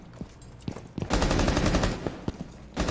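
Gunfire in Rainbow Six Siege, a few single shots followed by a long, loud burst of automatic fire, close, with a final short burst, without talk.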